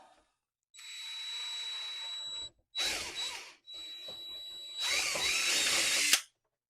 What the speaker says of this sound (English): that's the one that I'm going to drill now